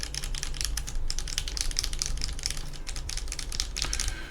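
Typing on a custom-built NV70 mechanical keyboard from GDK Labs, a rapid, even stream of crisp key clicks close up with no talking.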